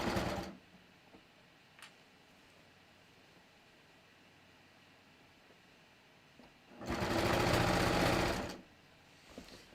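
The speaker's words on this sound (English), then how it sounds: "So I'm going to start stitching." A sewing machine stitches a bathrobe in two bursts, a short one at the start and a longer one near the end, with quiet pauses between while the fabric is worked from pin to pin.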